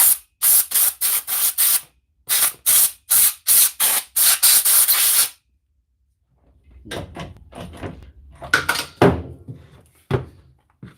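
Blasts of compressed air from a new compressor blowing dust out of a tool under repair, loud hissing bursts in a quick series of short pulses, followed by quieter clunks and handling after the air stops.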